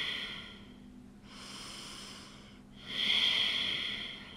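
Breathing during a core-strengthening workout: a soft, airy breath is followed by a stronger, forceful hissing exhale through the mouth, both close and unaccompanied.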